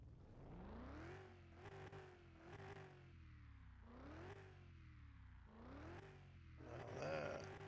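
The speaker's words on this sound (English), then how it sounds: "Now that sounds like a powerful V8" A rebuilt Lexus LX550 V8 engine runs and is revved repeatedly. Each throttle blip brings a rising pitch that falls back to idle, and the last rev climbs highest. The sound is close and there is no talking.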